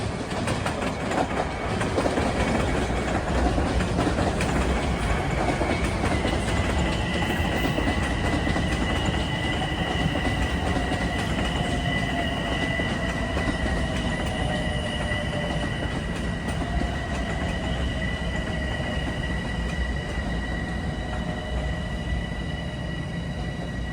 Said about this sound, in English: here comes train 713. Hempstead, Penn Station. He'll stop and pick up passengers here